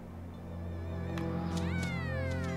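A cat meows in the Tales of Xillia 2 video game, a few short rising-falling cries at moderate volume over a steady low game hum.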